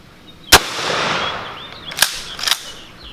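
A shotgun fires buckshot outdoors: one loud, sharp blast with a ringing tail, followed by two fainter cracks about 1.5 and 2 seconds later.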